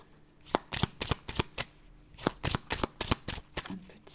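Deck of witches' oracle cards being shuffled by hand, a quick series of crisp riffling bursts and flicks repeating close up with no talking.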